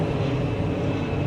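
An airplane takes off from a nearby tarmac and flies low over Acacia Estates, a loud, steady roaring engine drone filling the air close overhead with no pauses.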